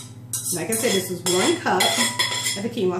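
Metal utensil scraping quinoa into a cooking pot, giving repeated clinking, grating strokes close by under a person talking.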